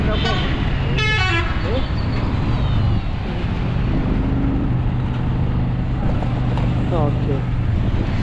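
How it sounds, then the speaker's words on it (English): A school bus passes by with a short horn toot near the start, its engine rumbling steadily beneath people talking over it. "That's a school bus."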